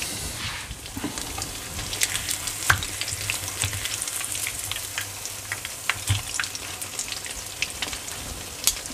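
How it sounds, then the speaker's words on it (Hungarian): Meat frying slowly in a pan while cooking outdoors on the Costa Blanca coast in Spain, a continuous close sizzle with scattered pops and crackles, no talking. "Hús, az is szép lassan sül"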